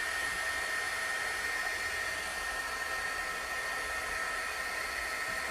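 A heat tool blows hot air for heat embossing washi tape, giving a steady, close, unbroken whoosh from start to finish with no talk over it.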